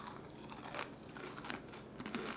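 Close, crisp crunching as someone bites into and chews air-fried curly fries coated in parmesan, several quick crackly bites in a row, quiet and alone without talk.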